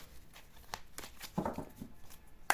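A deck of playing cards, some of them slippery, is shuffled and handled close by, giving a series of short riffling flicks and taps with quiet pauses between them.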